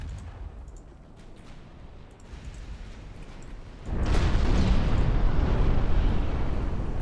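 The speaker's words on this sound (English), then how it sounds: "Ooh, that's a torpedo launch." A torpedo launch in the naval battle game Ultimate Admiral Dreadnoughts: a low rumbling background suddenly swells into a loud, sustained whooshing roar that continues to the end, with no speech.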